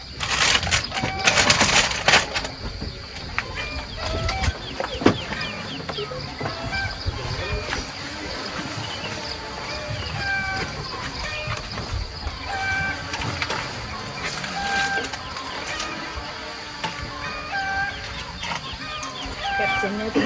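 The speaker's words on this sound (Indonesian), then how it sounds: "Aduh, ayam ada." Chickens cluck at a campsite in a traditional village setting, with short pitched calls repeating throughout over a busy, steady background, while people chat nearby.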